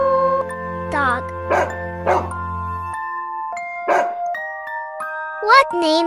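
A dog barks in short separate bursts, four or five times, over a simple background melody.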